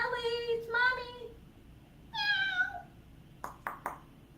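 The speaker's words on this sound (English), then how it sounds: "Sorry, my cat wanted to talk to mama, which is me." A house cat meows several times up close, two calls, a pause, then a third, followed by a few quick clicks or taps, with no talking over the sounds.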